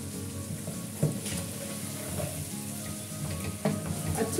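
Chicken karahi frying in a pan gives a steady, close sizzle with occasional stirring scrapes and two sharper clatters, heard alone throughout.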